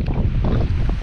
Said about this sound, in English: It's getting really windy and rainy again